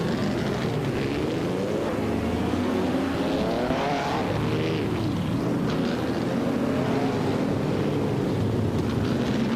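Race cars roar in a racing video game, including a 1952 Kuzma Offy, a continuous engine drone with rising and falling pitch sweeps as cars accelerate and pass, steady and loud throughout.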